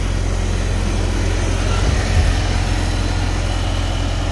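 A 1955 Farmall Cub tractor's small engine idles steadily up close, giving an even low chugging rumble with a brief slight surge midway and no speech.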